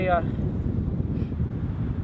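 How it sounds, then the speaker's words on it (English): Gusty wind buffets the microphone with a steady low rumble, after a brief voice at the start. "It's a little chilly and windy today"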